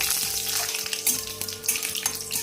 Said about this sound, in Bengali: ফোড়নের জন্য আমি শুকনো লঙ্কা, গোটা জিরে আর তেজপাতা নিয়ে নিয়েছি।